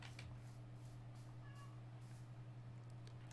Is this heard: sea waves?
no